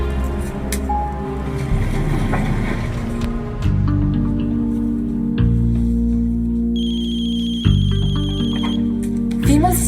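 A telephone rings loudly and steadily with an incoming call, its electronic tone repeating over several cycles in a soap opera scene.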